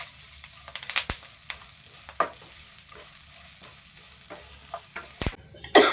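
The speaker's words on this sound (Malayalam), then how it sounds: "ഇതെല്ലാം കൂടെ ഒന്ന് വഴറ്റിയെടുക്കാം." Onion and curry leaves sautéing for a Kerala-style fish curry, soft sizzling with intermittent scrapes and clinks of a spoon in the pan.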